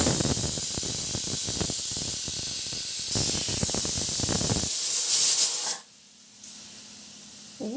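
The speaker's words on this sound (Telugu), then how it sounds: "ఇలా పొంగకుండా ప్రెషర్ బయటకు వెళ్ళిపోతుంది పప్పు పొంగదు" A pressure cooker cooking dal vents steam in a loud, continuous hiss with a rough, sputtering edge, then the rush suddenly drops away to a much quieter, thinner hiss near the end.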